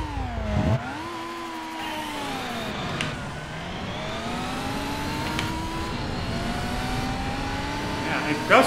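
A race car engine in the Gran Turismo 4 video game revs loud and steady, its pitch climbing and falling through gear changes as the car accelerates, with brief tire noise near the end.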